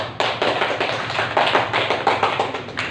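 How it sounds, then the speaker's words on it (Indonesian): An audience in a classroom applauds a presenting group, a short run of uneven, fairly close hand claps with no talking over it. "Beri tepuk tangan untuk kelompok 1."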